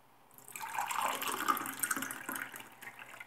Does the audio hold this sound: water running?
yes